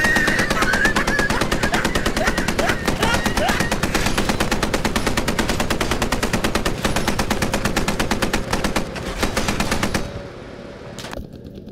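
Sustained machine-gun fire in the WWII shooter Post Scriptum, rapid dense bursts of automatic gunfire peppering a friendly half-track, loud and continuous for about ten seconds before cutting off abruptly.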